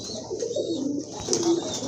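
A pair of large Rajgolla pigeons cooing, soft low rolling coos repeated over a steady background hum, close by.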